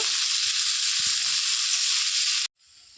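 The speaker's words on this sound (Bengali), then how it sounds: "এবার আমি পেঁয়াজ দিয়ে দেবো পেঁয়াজটাকে আমি ভালোভাবে কিছুক্ষণ নেড়ে নিব" Onions fry in a pan for Bengali mutton curry, giving a steady, close hiss of sizzling with a few soft stirring knocks, then cutting off abruptly near the end.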